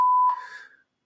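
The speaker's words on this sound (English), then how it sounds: "Shift Control Option 3 puts a 1K tone there." A pure 1 kHz test tone generated in Pro Tools sounds as one steady, loud beep that cuts off abruptly, leaving a brief fading tail of mixed sound before silence.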